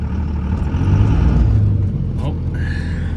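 A Cummins-swapped Belvedere truck chained at the front with a trailer behind it, its engine revving and straining in a loud, close low rumble. Someone talks over it.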